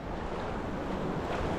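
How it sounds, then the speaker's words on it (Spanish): Waves breaking along the shore at Playa Mamitas on a mild day, a steady broadband wash of surf close to the microphone with some wind noise and no talking. "ya he pasado la zona peor, que es donde rompe la ola"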